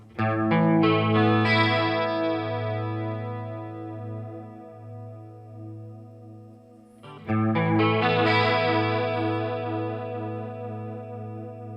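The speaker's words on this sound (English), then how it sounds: "let's switch modes though, and let's go to pitch modulation" Electric guitar through a NUX Mini Core pedal set to pitch modulation, two strummed chords ringing out with a wavering, chorus-like shimmer, the second struck after a brief break near seven seconds; loud and alone without talk.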